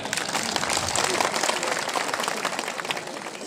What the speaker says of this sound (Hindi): अरे तालियां बजाओ उसकी।